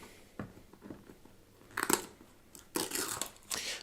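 A new Nexus 7 tablet box, made by Asus, is opened and its sticker peeled, producing faint, close crinkling and tearing noises in short bursts.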